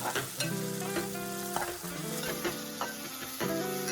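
Two drumsticks (moringa pods) fry in a hot oil tempering for a tomato curry, giving a continuous close sizzle broken by several clattering stirs of the spoon in the pan.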